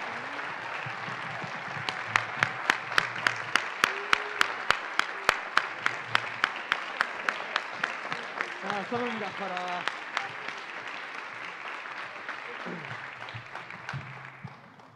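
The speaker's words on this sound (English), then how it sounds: "Round of applause for all our seniors." A crowd applauds graduating seniors at a high school spring band concert, with rhythmic clapping standing out early on, while a voice speaks over the noise and the clapping gradually thins.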